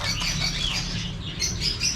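Caged goldfinches, canaries and other small birds twitter and chirp steadily in a pet bird shop, a dense, moderately loud chorus of overlapping high calls with no talking.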